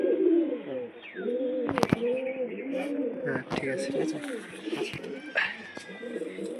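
Tippler pigeons coo in a loft, repeated soft throaty coos rising and falling close by, with someone talking briefly over them and a few clatters of movement.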